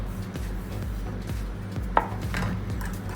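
Whole wheat jaggery chocolate marble cake batter stirred in a bowl, with rhythmic low thumping strokes of the spoon and one sharp clink against the bowl's side.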